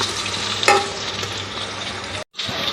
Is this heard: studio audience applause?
no